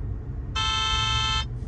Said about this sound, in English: they honked, the light just turned green.